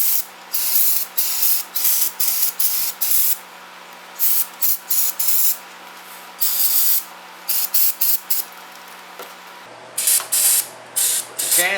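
An aerosol spray can hisses in a series of short, loud, close bursts with quick gaps, during work on a 1998 Arctic Cat 300 4x4 starter.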